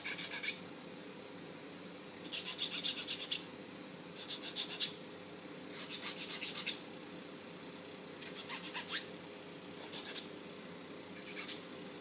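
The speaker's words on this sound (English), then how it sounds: "use a little file to take all the sharp edges off." Small hand file deburring the sharp edges of a piston ring during an LS1 engine bottom-end assembly, seven short rasping strokes in an uneven rhythm, close and clear with quiet gaps between.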